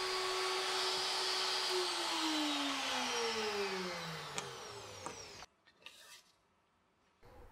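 Plunge router fitted with a precision circle cutter on wood, its loud whine sliding steadily lower as the motor spins down, then near quiet with a few faint clicks and handling knocks.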